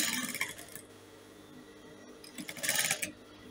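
A sewing machine stitching crinoline drapes runs in short bursts, a faint steady whir rising to a louder rattling run near the end, heard alone with no talk.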